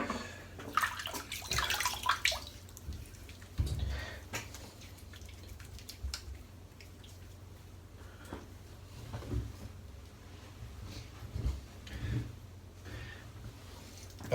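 Water splashes and drips as a freshly shaved head is wetted from a bowl. Irregular close splashes and trickles come and go in short bursts.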